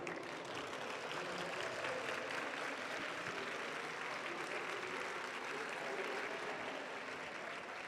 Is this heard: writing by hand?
no